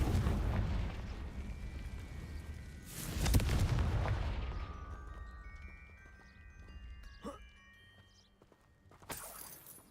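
A Confringo fire spell explodes in Hogwarts Legacy as a heavy, booming blast with a rumbling tail, followed by quieter magical crackles and a second burst near the end.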